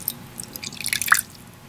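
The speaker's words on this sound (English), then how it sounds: "we're gonna go ahead and place a water dish here and refill that for him." Water trickles into a pet scorpion's small water dish in a quick cluster of light drips and tiny splashes, close and brief, fading within a second or two.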